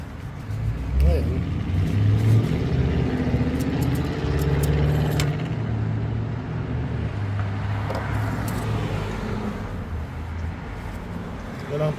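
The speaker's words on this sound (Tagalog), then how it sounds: "kailangan po pinangandar yung engine." An engine runs with a steady low rumble and some revving under nearby talk in a workshop setting, loud and close throughout.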